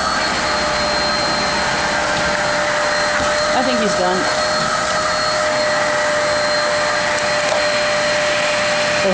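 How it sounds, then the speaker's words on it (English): A vacuum cleaner runs steadily over a cat's fur, its loud, continuous whining drone filling the whole stretch while a person speaks briefly over it. "you like the vacuum cleaner?"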